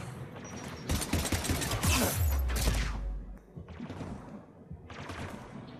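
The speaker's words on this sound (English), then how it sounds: "AA guns ahead of us." Anti-aircraft guns firing in Mass Effect 3: heavy bursts of rapid fire roar loudly with deep booming thumps, fade briefly, then resume in shorter volleys further off.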